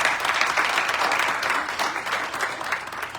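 Audience at a medical association colloquium on gun violence prevention applauds Dr. Swann, a steady, moderately loud round of clapping from a seated crowd.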